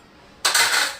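Kitchen utensils and dishes are pulled out in a home kitchen, making a sudden bright metallic clatter and rattle that rings briefly after half a second of quiet.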